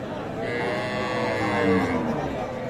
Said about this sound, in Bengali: এগুলো হচ্ছে দেশাল জাতের গাভী